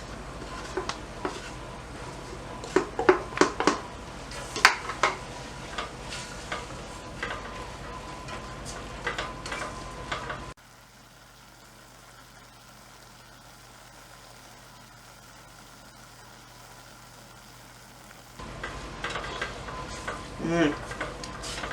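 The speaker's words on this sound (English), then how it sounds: "I'm going to go ahead now and add the onions" Onions fry in a hot pan with a sizzle and scattered clinks and scrapes from stirring for about ten seconds, then a long quieter stretch of low hum before the stirring noises return near the end.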